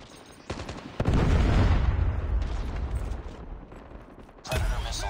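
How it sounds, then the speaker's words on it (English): Predator missile strike in Call of Duty Mobile, a loud booming blast with crackling rumble that swells, fades, then another burst near the end; no talk over it. "Friendly predator missile inbound."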